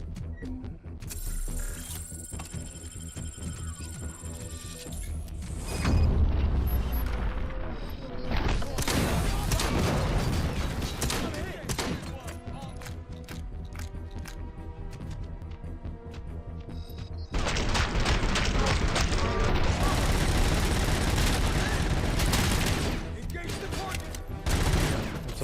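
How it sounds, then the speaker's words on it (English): Heavy shotgun blasts and dense volleys in the RoboCop: Rogue City Unfinished Business game, loud broadband bursts packed into long stretches of combat, with a voice commenting in between. "Shotgun."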